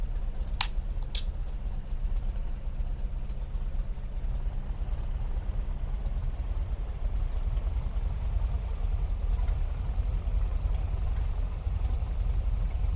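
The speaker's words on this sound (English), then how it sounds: "Man, that's a pretty crappy sounding engine here." A rough, fouled-sounding aircraft engine warms up in Microsoft Flight Simulator 2020 on the ground at Telluride, giving a steady low rumbling drone with no voices, after two brief high tones near the start.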